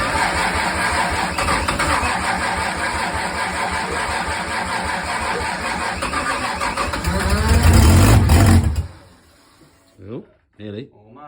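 A Ford Falcon doorslammer drag car engine cranks steadily and loudly, then catches with a deep surge before cutting out abruptly, followed by a few short voice sounds in the sudden quiet.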